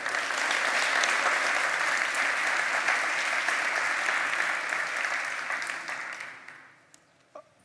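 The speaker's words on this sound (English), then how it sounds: "So give a warm round of applause for James Powell." A conference audience gives a warm round of applause before a pandas talk at a PyData event, a dense, steady burst of clapping that holds for about six seconds, then thins out and fades, with a few last isolated claps.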